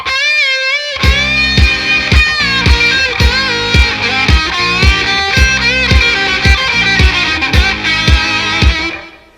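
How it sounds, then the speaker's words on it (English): An electric guitar plays a phrase layered with a looper: a sustained chord opens, then loud, close, rhythmic strummed chords repeat steadily before fading out, with no talk. "but if I just play it with the looper, it sounds like this."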